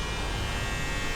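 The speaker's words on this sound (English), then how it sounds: "we've got our smoke tester running, and we're gonna just check for a vacuum leak" A smoke tester machine runs during a vacuum leak test on a BMW E30, giving off a constant, loud electric buzzing hum with no breaks or changes in pitch.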